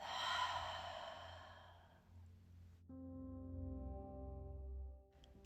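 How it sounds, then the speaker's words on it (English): A slow exhale out through the mouth during a beginner-friendly warrior yoga flow, a soft breathy rush that fades after about two seconds, followed by a steady low background hum. "Take a big inhale, and then exhale out the mouth."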